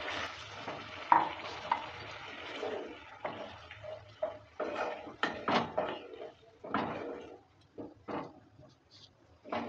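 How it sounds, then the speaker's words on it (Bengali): Curry of potato, peas, paneer and tomato being stirred in a pan just after warm water is added, with scraping and soft sizzling bursts at an irregular pace, close by, with a voice talking at times. "জলটা দেওয়ার পর ভালো করে নেড়ে চেড়ে নিচ্ছি"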